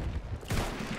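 Shotgun blast from a Battlefield 1 match on console, a sharp burst partway through that rings into a broad, lingering roar over a low rumbling game background.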